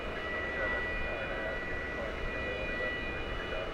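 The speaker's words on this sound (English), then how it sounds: "Let's switch over to this camera to see if the United aircraft will touch down" A United aircraft touching down at DFW Airport, a distant steady engine roar with whining tonal hum, heard alongside faint radio-like voices in the background.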